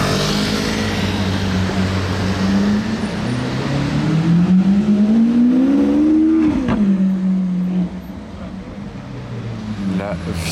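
A Lamborghini Aventador engine revs up, its pitch climbing and then dropping sharply, loud and nearby, with a voice talking over parts of it.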